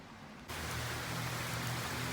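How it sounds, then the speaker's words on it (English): Heavy rain pours down steadily, starting abruptly after a brief quiet moment and then holding as a loud, dense, continuous wash of noise with no voices. "It's pouring down raining."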